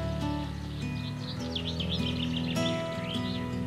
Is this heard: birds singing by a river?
yes